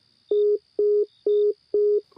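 Four evenly spaced beeps of a phone tone from a call to an unreachable number, each lasting about a quarter second with short gaps, clear and alone against faint background hiss.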